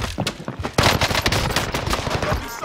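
Rapid automatic gunfire in a first-person shooter match, bursts of loud shots crackling densely and continuously across the moment with barely any pause.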